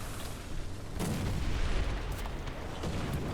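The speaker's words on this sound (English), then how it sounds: "here come the bombs and the artillery" Bombs and artillery explode in the War Thunder game, heard as a rumbling, booming barrage with one heavier blast near the middle and scattered sharp cracks over a steady roar.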